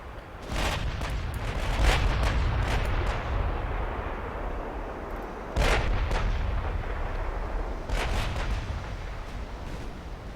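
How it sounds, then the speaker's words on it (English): British warships trade naval gunfire in Ultimate Admiral Dreadnoughts in a 1900-era battle: heavy booming salvos with a rumbling roar between them, loud and continuous, and several sharp blasts spaced a few seconds apart. "Okay, I'm taking fire in return."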